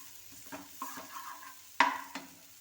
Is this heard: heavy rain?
no